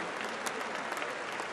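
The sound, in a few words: audience applauding at Papa Wemba tribute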